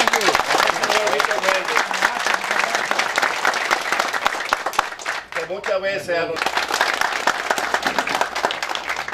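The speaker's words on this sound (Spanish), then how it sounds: "Un aplauso" A political rally crowd breaks into loud, sustained applause and cheering, dense clapping continuing throughout while someone speaks over it on a microphone.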